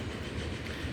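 Train rolling along rails in the game Transport Fever 2, a steady low rumble with faint clickety-clack over a short continuous stretch, no talk.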